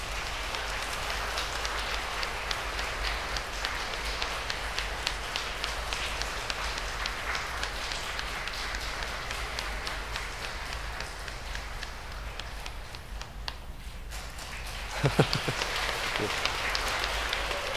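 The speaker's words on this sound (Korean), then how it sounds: "박수 부탁드리겠습니다." Church congregation applauding during a priest's name-day celebration in a Korean Catholic parish, a steady wash of clapping held at even strength for most of the span, thinning near the end before a few louder knocks.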